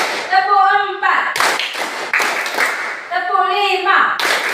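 A group of people clap a counted hand-clap pattern in a classroom-style game, sharp broadband claps in short bursts separated by a speaking voice calling out the counts.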